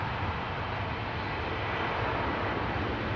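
A jet airliner spools up for takeoff on runway 15 at Washington National airport (DCA), a steady, dense engine roar heard from nearby, constant throughout with no voices.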